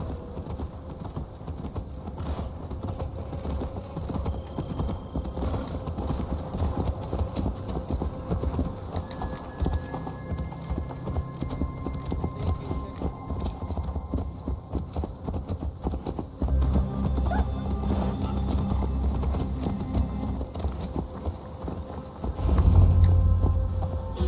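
Steady clip-clop of horse hooves at a walking pace in Assassin's Creed Valhalla, fairly close and continuous, over a low ambient hum.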